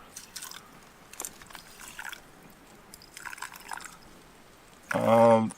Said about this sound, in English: we'll take this water that we got out of the river and slowly pour it through the filter